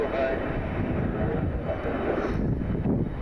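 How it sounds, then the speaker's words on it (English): Delta Boeing 737 airliner taxiing at Detroit Metro Airport after arriving from Tampa, a steady, fairly close jet engine rumble and whine with outdoor wind noise, holding at an even level throughout. "Delta 737, it just came in from Tampa a few minutes ago."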